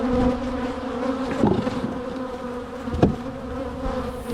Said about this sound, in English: I got a bunch of mad bees around me